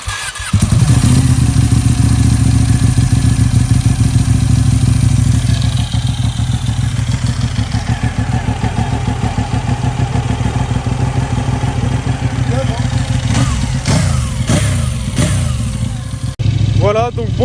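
A running motorcycle engine, an older bike picked up after a long road trip, idles loud and close with a steady rumble, a few revs near the end and clattery mechanical noise, with people talking nearby.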